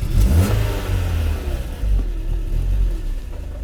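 A Mercedes 190 Evo 2 engine revs hard with a deep growl, then drops to a rumbling idle with a few lighter blips of the throttle.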